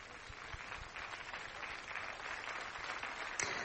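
Audience applause fills a concert hall after a short, dramatic performance, a steady wash of many hands clapping at moderate distance, sustained throughout with a brief sharper clap near the end.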